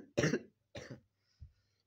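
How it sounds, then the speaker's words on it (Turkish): Three short, dry coughs from a person with a tickling sore throat, close and quiet in a silent room, the first two sharp and the last one weaker. "Böyle boğazımda falan gıcık ve öksürük var"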